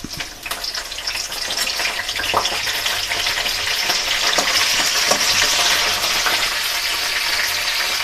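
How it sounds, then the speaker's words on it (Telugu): Mustard seeds, cumin and dried red chillies crackle and sizzle in hot oil, joined by curry leaves. The frying is close and continuous, with occasional stirring scrapes and sharp pops and no voices. "వేడయిందండి ఆవాలు వేస్తున్నా జీలకర్ర రెండు ఎండుమిరపకాయలు చిన్న ముక్కలు రెండు"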